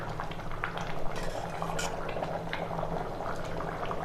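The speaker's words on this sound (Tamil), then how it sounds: "இப்போ இது நல்லா கொதிச்சிருச்சு பாருங்கள்." Egg biryani rice bubbles at a steady boil in a cooking pot, a continuous soft simmering hiss with small popping bubbles throughout, close and moderately quiet, with no talking.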